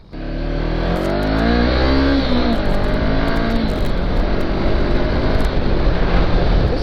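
A Honda CB500X motorcycle accelerates hard on a hot highway, its engine climbing through rising revs and a gear change into a steady loud drone with heavy wind rush, heard from the rider's position.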